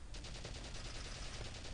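A shock trooper fires in the Valkyria Chronicles video game, a rapid burst of automatic gunfire with evenly spaced shots, dense and loud at close range for under two seconds, no voices.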